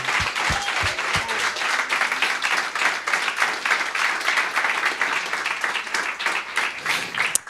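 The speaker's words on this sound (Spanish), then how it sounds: "Si lo va a aplaudir, apláudale con todo su corazón." Church congregation applauding with steady, full clapping that carries on for several seconds at even volume, a few low thumps near the start.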